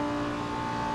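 BMW M5 E60 engine in the Assetto Corsa racing game, a steady high-revving drone held near top speed, loud and continuous for a brief moment with no talk.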